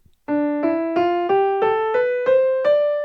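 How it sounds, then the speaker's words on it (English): Seven evenly spaced notes climb step by step from D in the Dorian mode, in a plucked or keyboard-like tone, a scale played alone with steady rhythm and no talking. "Mode 2, Dorian, begins on the second note of the scale,"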